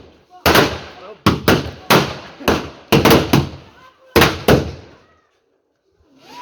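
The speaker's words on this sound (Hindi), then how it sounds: "पीछे से कोई ना कोई बम फोड़ दे रहा था" Firecrackers burst during a Diwali celebration in Munsyari, about ten loud, sharp bangs with echoing tails fired in quick irregular clusters, close by, then a sudden quiet near the end, and voices murmur faintly beneath.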